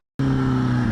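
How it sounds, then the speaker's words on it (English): A motorcycle engine starts up abruptly and revs loudly and steadily close by, a strong droning tone filling the short moment. "he turned around and he allowed her to rev his bike"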